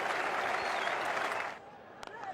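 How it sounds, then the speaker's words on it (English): A cricket crowd at a 2002 England versus India match roars and applauds a six, a loud sustained swell of cheering and clapping that drops away abruptly, leaving scattered claps and a commentator's voice. "That sent the Indian portion of this crowd into raptures"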